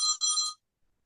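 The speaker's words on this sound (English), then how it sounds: "I got a phone call" A phone ringtone plays two short bright electronic tones close by, then cuts off into silence.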